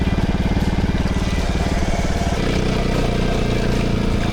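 Off-road motorcycles, a KTM, a Fantic and a Honda CRF, ride past on a Peak District trail, their engines a steady, loud buzzing drone that shifts pitch midway as one bike gives way to the next.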